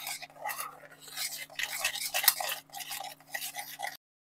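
Potol being mixed with Kashmiri red chili powder, salt, sugar and spices, giving close, irregular scraping and clinking of a spoon against a bowl in bursts, with a steady low hum underneath and no talking.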